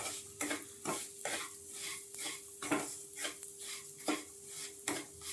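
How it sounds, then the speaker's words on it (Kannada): Fine suji rava frying in a pan while being stirred steadily, rhythmic scraping strokes of a spoon against the pan over a soft sizzle, close and continuous. "ಇದನ್ನ ಚೆನ್ನಾಗಿ ಫ್ರೈ ಮಾಡ್ಕೊಳ್ಳೋಣ."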